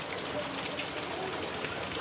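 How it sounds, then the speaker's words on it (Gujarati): Steady rain hisses evenly throughout, a continuous fairly soft downpour with no voices. "અત્યારે ફૂલે ફૂલ વરસાદ ચાલુ થઈ ગયો"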